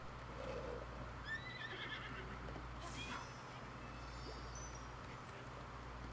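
A horse whinnies in The Legend of Zelda: Breath of the Wild, a quiet, brief neigh over a steady low game hum with faint higher tones and no voices.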